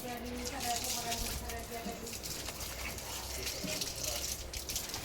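Water gushes steadily from a hose pipe over a German Shepherd after a bath, a continuous hissing spray with voices faintly heard at times.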